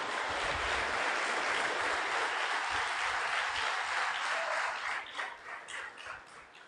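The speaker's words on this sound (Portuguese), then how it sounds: "Você pode aplaudir o Senhor," Church congregation applauding, a dense steady wash of clapping from many hands that thins and tapers off toward the end.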